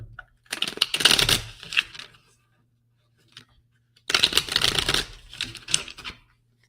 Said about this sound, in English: Let's shuffle them up again.